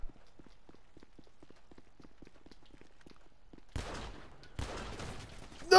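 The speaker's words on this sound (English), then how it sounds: "I'm using a pistol." Gunfire from a Grand Theft Auto V online deathmatch: a series of soft, evenly spaced clipped pops from a pistol or revolver, followed by two louder, denser bursts near the end, with no talking.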